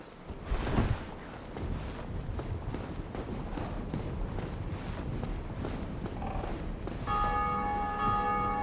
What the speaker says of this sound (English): Somebody else ringing the bells of awakening.